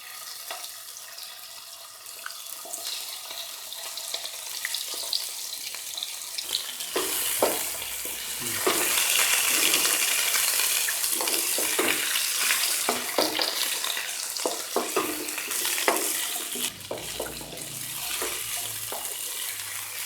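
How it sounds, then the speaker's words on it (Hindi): Chicken pieces frying in cooking oil for a Pakistani street-style chicken soup give a steady, bright sizzle that swells after a quieter start, with scattered clicks and stirring clatter throughout and no voices. "चिकन को हम हल्का सा फ्राई सा करेंगे।"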